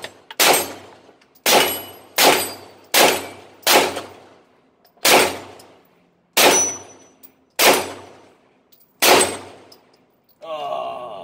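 Nine sharp, evenly spaced gunshots from a Stribog SP9A1 9mm carbine ring out during a 10-round shooting stage, each with a short metallic decay, ending in a brief clattering rattle.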